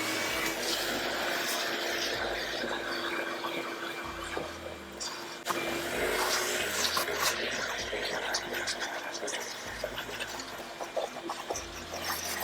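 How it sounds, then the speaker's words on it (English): A vacuum cleaner drones steadily while it cleans a car's interior, a continuous broadband whir that holds at an even level for the whole stretch, with faint shifts as the nozzle moves and no voices over it. "Sexy part of cleaning an interior is the vacuum cleaner. It makes noise, it just picks stuff up."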